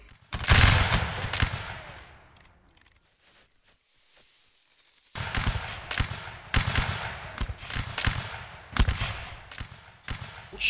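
Musket volley from a line of soldiers in a Napoleonic Wars video game: a loud burst of overlapping shots, a quiet lull, then a long ragged crackle of many close and distant shots popping irregularly.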